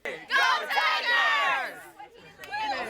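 High school swim team members shout a poolside cheer together, a near, loud burst of mixed youthful voices that rises, wavers and trails into scattered chatter.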